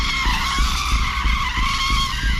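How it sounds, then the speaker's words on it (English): Car brakes screech as the tires skid in the rain, a loud, sustained high-pitched squeal that holds steady for a couple of seconds with a low rumble beneath. "During the brake screech,"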